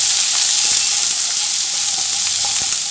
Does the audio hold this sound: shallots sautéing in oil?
yes